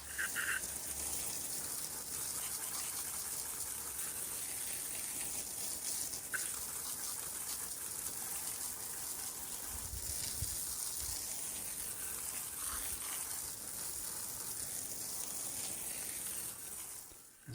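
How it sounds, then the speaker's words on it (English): Hose spray of warm water rinsing heavily deposited car wheels after wheel cleaner, a steady broadband hiss and gush running continuously at close range with no talking. "we're going to give these wheels a rinse just with a hose and warm water"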